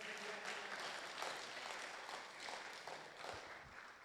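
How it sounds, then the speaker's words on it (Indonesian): Congregation applauding during a Christmas church service in Tokyo, a dense, fairly distant wash of clapping that holds steady for several seconds. "Beri tepuk tangan buat Tuhan kita"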